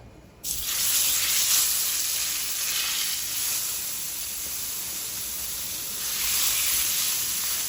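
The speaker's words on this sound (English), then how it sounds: "the pan's nice and hot. Put down my steak" Loud, steady sizzling erupts suddenly as meat hits a hot pan, a bright crackling hiss that continues without pause.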